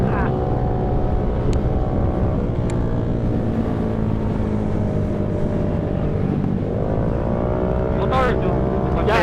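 A motorboat engine drones loudly and steadily throughout, its pitch dipping and climbing again near the end.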